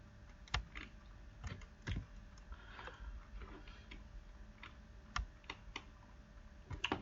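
Keys tapped on a computer keyboard in irregular bursts of sharp clicks with pauses between, quiet and close, with no voice over it.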